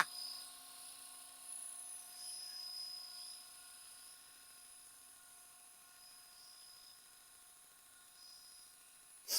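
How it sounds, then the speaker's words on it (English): An electric RC scale Jet Ranger helicopter, converted to electric, flies with a steady high whine and buzzing rotor drone, slightly louder at first, then settling into a constant hum. "I've got a flying Jet Ranger."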